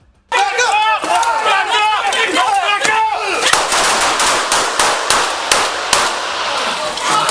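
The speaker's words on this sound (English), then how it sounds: "The condo corridor filled with the deafening crack of gunfire." Rapid bursts of gunfire from several weapons in a condo corridor, loud and close, with overlapping shots giving way to sharper single cracks spaced through the clip.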